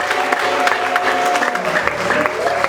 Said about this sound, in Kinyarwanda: Mureke dukomere Imana amashyi menshi cyane